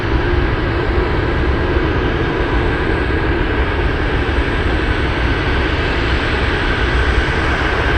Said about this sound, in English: And that is UPS 81 flying in from Shanghai.